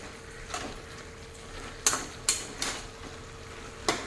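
Prawns, bottle gourd and spinach being stirred in a pan, heard as a few sharp clanks and scrapes of a utensil against the metal over a soft, quiet background.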